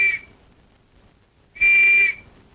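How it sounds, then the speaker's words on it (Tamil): A sharp whistle is blown twice, a short blast at the start and a louder, sustained shrill blast about a second and a half later, with near silence between them. "அப்புறம் விசில் ஊதுற?"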